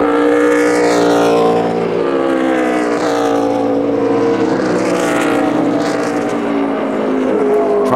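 Loud NASCAR race car engines roar at Watkins Glen, several cars passing in sweeping rising and falling whines that overlap without a break.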